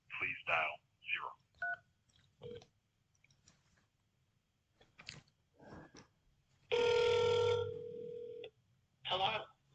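A single long keypad tone sounds on an FBI office phone menu. It sits between stretches of a recorded menu voice, with quieter short blips nearby.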